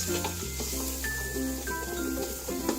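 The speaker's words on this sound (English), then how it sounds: "This is onion and garlic that I'm cooking in lard, and you just make a roux" Steady sizzle of onion and garlic frying in lard with flour browning for a roux, close and continuous, under a background of steady tonal music.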